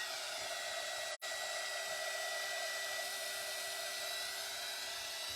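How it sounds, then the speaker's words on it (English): A hair dryer blows in a steady, loud, continuous whoosh with a constant motor whine, cutting out for a split second before resuming, heard close and alone. "just going to kind of hold that up and hit that with the dryer as well"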